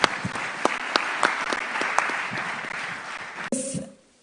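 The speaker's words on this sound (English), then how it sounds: "please join me in giving them a big round of applause" Audience applause for panelists at the News9 Global Summit UAE edition, a dense burst of clapping with a few sharper claps that runs steadily for about three and a half seconds, then cuts off abruptly and fades out.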